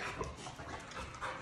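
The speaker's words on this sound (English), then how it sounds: "Please forgive my dog panting." A female dog pants steadily just after a run, rapid breaths continuing close by at a low, even level with no talking.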